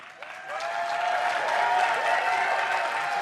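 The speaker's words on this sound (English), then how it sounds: "An applause here for the home crowd" A home crowd at the 2013 League of Legends World Championship bursts into applause that swells quickly and holds steady, a dense wash of clapping with some cheering mixed in.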